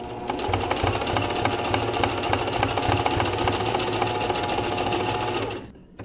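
A sewing machine stitches a buttonhole in a steady, fast mechanical whir with rapid needle clatter. It runs near and loud for about five and a half seconds, then stops.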